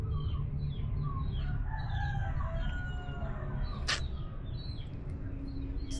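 Backyard chickens clucking and calling over a constant noisy background, with a rooster's crow rising among them and a short sharp sound partway through.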